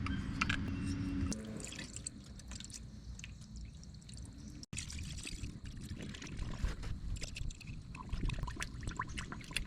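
Coolant pouring into a nearly empty radiator on an auction-bought machine, a steady liquid trickle and dribble with dripping, moderately close with low background rumble, no talking.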